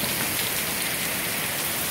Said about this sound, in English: we're all of a sudden getting hit with a big rainstorm here.